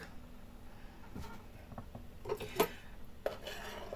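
Sticks of sausage dropped into a salad bowl, a few soft clinks and taps against the dish, quiet and close, scattered over a low kitchen background.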